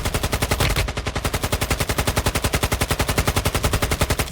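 Sustained automatic AK rifle fire in the mobile shooter Warzone Mobile, a rapid, evenly spaced stream of loud sharp shots that runs without pause from start to end.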